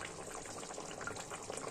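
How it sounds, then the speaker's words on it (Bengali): Mustard oil poured over a small rohu fish curry in mustard paste, a soft, faint, steady liquid trickle lasting under two seconds. "এখন উপর থেকে সর্ষের তেল দিয়ে দিলাম"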